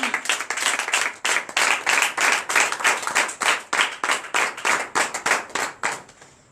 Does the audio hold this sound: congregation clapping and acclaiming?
yes